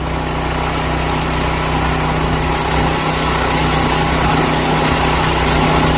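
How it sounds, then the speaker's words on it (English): A loose plastic shield rattles on the spinning shaft of a farm machine while hauling oats, a continuous loud mechanical drone with a steady engine hum and a busy clattering texture, no talking. "That's the plastic shield rattling around on it."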